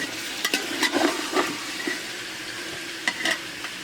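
Meat sizzles in a hot pan while a spoon scrapes and stirs it in short bursts, the frying hiss steady and close underneath the intermittent scraping.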